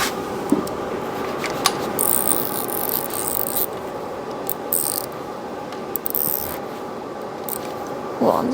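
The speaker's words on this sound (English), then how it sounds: "I'm just going to grab a tool to tighten them." While an engine block is assembled, a hand tool tightens fasteners, giving a steady mechanical whirring with scattered ratcheting clicks, close and moderately loud.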